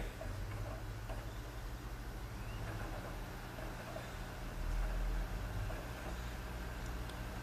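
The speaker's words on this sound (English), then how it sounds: "you can hear the fan start to kick in a little bit" An Xbox 360 console's cooling fan spins up into a steady, airy whir, with a low, even hum underneath that stays fairly constant throughout.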